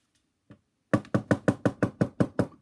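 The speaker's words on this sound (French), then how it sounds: "Toc toc, frappa la méchante sorcière à la porte de la maisonnette" Ten sharp knocks in an even, steady rhythm on a small cottage's wooden door, loud and close, coming after one faint tap, with no voices.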